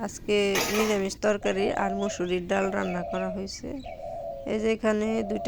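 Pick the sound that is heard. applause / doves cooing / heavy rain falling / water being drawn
doves cooing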